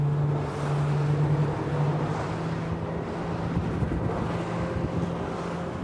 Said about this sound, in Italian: andiamo a provare lo Strider 11 con due motori Mercruiser da 320 cavalli a benzina.